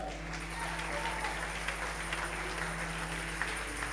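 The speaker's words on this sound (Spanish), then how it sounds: "Denle un aplauso al Señor." Church congregation applauding at a Spanish-language service, a steady, fairly faint wash of clapping throughout with a low hum underneath.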